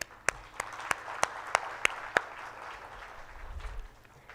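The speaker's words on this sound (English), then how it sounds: "a big round of applause for today's session" Clapping from the audience at a technical session: a faint, short run of about eight sharp, evenly spaced claps that stops after a couple of seconds, leaving quiet room tone.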